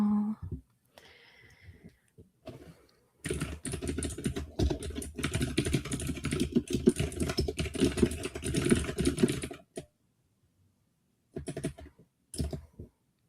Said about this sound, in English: You get that mechanical typing